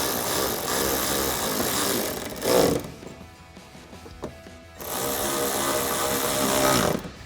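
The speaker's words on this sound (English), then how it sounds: "we'll take that 7mm socket and tighten these down" A power driver with a 7mm socket runs down factory bolts while fender flares are fitted on a 2021-2023 Ford F-150, giving two sustained whirring runs with a quieter gap of small clicks and scrapes between them.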